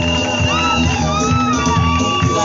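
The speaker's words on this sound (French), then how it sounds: "Qu'on l'encourage avec vos cris de joie." A crowd at a wedding shouts, whoops and cheers with joy, a dense loud continuous roar of many voices close by.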